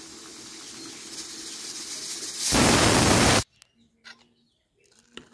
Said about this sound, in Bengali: কুকারে হুইসেল দিতেছে